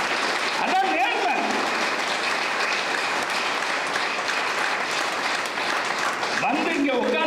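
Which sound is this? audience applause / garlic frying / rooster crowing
audience applause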